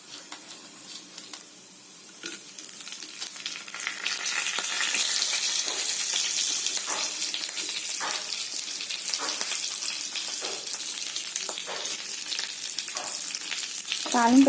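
Mustard and fenugreek seeds sizzle in hot oil for a tempering in a home kitchen, a continuous bright hiss that thickens partway through, with intermittent popping crackles and a brief clatter at the end, close and unaccompanied by speech.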